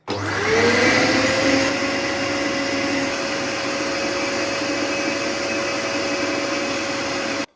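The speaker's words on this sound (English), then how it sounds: "let's see how powerful the Vax Turbo Force really is. I'm gonna do this suction test as it is" A Vax Turboforce vacuum cleaner runs a suction test, spinning up quickly and then holding a loud, steady motor whine and airflow rush for about seven seconds.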